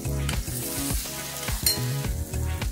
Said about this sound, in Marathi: सगळं आता आणखी 2-3 मिनिट तेलामध्ये तिखट मीठ शिजू देते